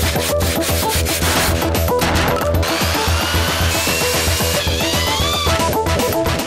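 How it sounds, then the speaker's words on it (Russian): Hand saw cutting through a polystyrene concrete block, with rapid rasping strokes in a steady rhythm and some higher squeaky scraping toward the end. "Полистирол-бетон просто в обработке легко пилится ножовкой."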